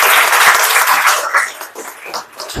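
An audience at a career counselling and motivational session in Patel Nagar, New Delhi, claps loudly in a dense burst that fades into scattered, uneven claps.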